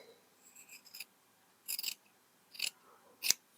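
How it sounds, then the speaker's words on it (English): Scissors snip out a fabric shape in three quick, separate bursts, close and crisp against a quiet room, with a few faint small rustles before them. "And then cut out your shape,"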